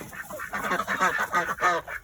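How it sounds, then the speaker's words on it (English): Ducks on a farm quack and honk insistently in a rapid series of close, loud calls, eager to be let out of their pen in the morning. "you hear the ducks wanting to get out."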